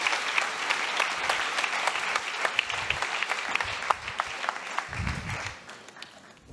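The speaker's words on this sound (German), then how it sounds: "Erstmal Applaus für euch." An audience at a Berlin public event breaks into applause, a dense sustained patter of many hands clapping that fades out over the last second or so, with brief voices underneath.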